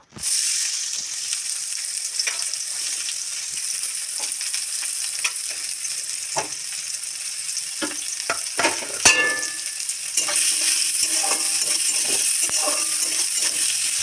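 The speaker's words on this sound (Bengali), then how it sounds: "তেল গরম হয়ে গেছে, এবার পেঁয়াজ কুচি দিয়ে দেবো" Chopped onion dropped into hot oil in a wok sizzles steadily with scattered clicks and clinks of a utensil, a sharp metallic clatter midway, then a louder, fuller sizzle toward the end, close and unaccompanied by talking.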